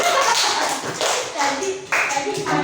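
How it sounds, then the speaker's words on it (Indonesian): Schoolchildren in a classroom clap for group 1, a short uneven burst of hand claps mixed with children's chatter and voices close by. "tepuk tangan untuk kelompok 1"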